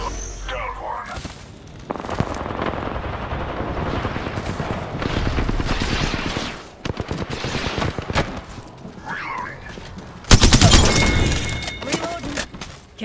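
Gunfire in a tactical shooter game with Ash as a teammate: bursts of rapid shots and sharp impacts in several loud volleys, broken by brief pauses and short spoken callouts.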